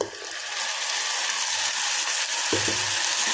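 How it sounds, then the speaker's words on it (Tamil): Ground tomato sizzles with onions in hot oil, a dense close hiss that swells steadily, with two quick stirring knocks toward the end and no talking. "ஆட் பண்ணி தக்காளி வேகிற வரைக்கும் நல்லா கிளறி விடலாங்க"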